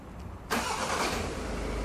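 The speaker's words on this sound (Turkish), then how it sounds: "Çalıştırın aracı." A 2021 Volkswagen Polo engine starts with a sudden loud crank that catches at once, settling into a steady close idle.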